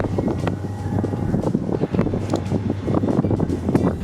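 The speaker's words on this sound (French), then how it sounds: "le vent s'est levé, le vent se lève" Gusty wind in Berlin buffets the microphone in rough, uneven rumbling bursts, loud and close, with a low steady drone beneath.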